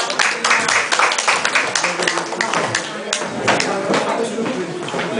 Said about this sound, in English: Please give him a round of applause and love.